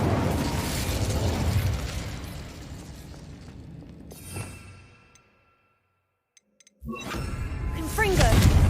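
Incendio fire spell in Hogwarts Legacy: dense crackling, bursting game effects with a popping impact, a sudden drop to near silence, then a loud burst of flame and clatter returning with a voice.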